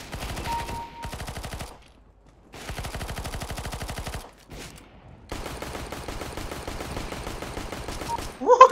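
Rapid automatic gunfire from a rifle in the video game CS:GO, loud sustained bursts broken by short pauses, with the last long burst ending in a few sharper clicks.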